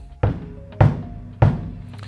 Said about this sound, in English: Let's have a bit of a listen to what this pedal does here. This is my bass drum pedal.